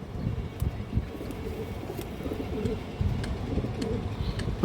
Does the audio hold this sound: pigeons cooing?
yes